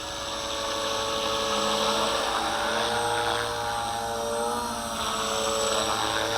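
A V450D01 remote-control helicopter hovers and drifts, its rotor giving a continuous high whine with a steady buzzing hum and slight swells in pitch, moderately loud and alone.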